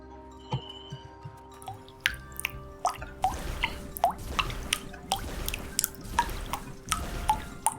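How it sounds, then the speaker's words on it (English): Water dripping loudly, close by, with sharp, irregular drops and plinks and wetter splashes growing busier in the second half, alone with no talking. "Man, that water is dripping really loud."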